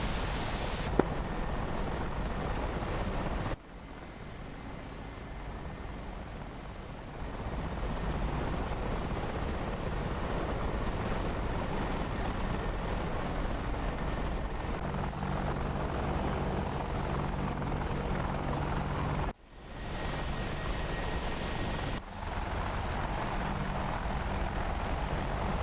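Ka-50 Black Shark helicopters departing in a combat flight simulator game, a loud continuous rotor and turbine drone with a couple of abrupt cuts, no voices.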